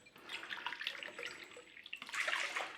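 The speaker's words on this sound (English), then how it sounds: "So we want to go in there with about 3 cups of water." About three cups of water pour into a pot for sweet and sour sauce, a steady close splashing stream that swells louder in the last second, with no talk over it.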